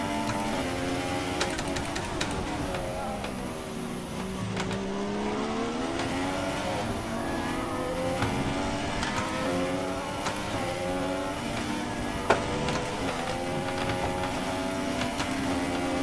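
Formula One race car engine from the F1 2016 video game during qualifying at Australia, a loud continuous high-pitched whine rising and falling with gear changes and revs, with tire and mechanical noise throughout and no talking.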